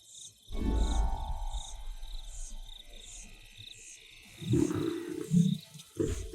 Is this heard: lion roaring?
yes